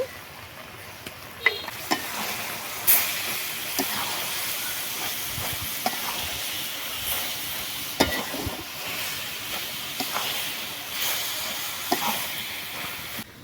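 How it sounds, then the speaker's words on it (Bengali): Cumin paste and a little oil sizzling in a hot wok with kalai greens and small shrimp, a steady frying hiss with occasional stirring clicks and scrapes, no talking. "এবারে দিয়ে দিচ্ছি জিরে বাটা সাইড থেকে একটু তেল দিয়ে দিচ্ছি"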